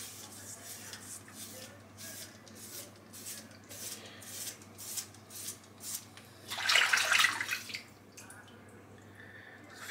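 A Headblade ATX six-blade razor shaves a gelled scalp, giving close, soft rhythmic scraping strokes with brief pauses, followed by a louder wet rinsing burst near the end.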